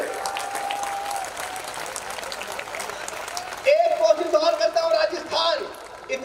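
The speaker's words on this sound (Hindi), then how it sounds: "इतनी कमजोर ताली में पढ़ने की बिल्कुल आदत नहीं है" Thin applause from a large audience at a Hindi Kavi Sammelan poetry event runs under a voice and a sustained tone, then grows louder and fuller for the last couple of seconds.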